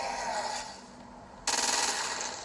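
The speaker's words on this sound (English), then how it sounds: "Use precision targeting to shoot the freak's head or legs." Gunfire from shooting freaks in the video game Crackdown 2. Dense automatic fire starts abruptly partway through and continues rapidly to the end. It follows a quieter, steady background hum.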